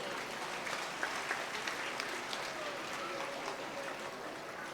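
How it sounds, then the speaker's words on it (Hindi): Women at a Catholic women's association annual assembly clap together in a sustained, fairly faint patter of many hands with scattered sharper claps and voices beneath. "स्वागत के तौर पर सभी माताएं जोरदार ताली बजाएंगी।"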